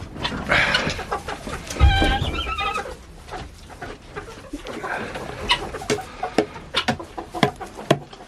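Farmyard chickens clucking at an off-grid homestead during a polar vortex, mixed with a horse neighing and whinnying, hoof clip-clops and loud rustling close by, with no talk.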